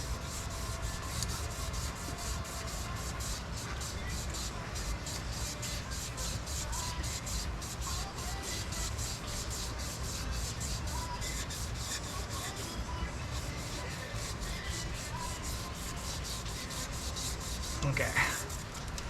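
Engine crankshaft journals are polished by hand with the engine still in place, producing a continuous rapid rubbing and rasping stroke that is close and steady, with a brief louder scrape near the end.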